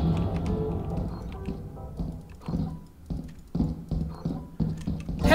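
Horse hooves in a video game clip-clop in a steady, uneven rhythm of sharp knocks, fairly close, with faint background tones and no speech.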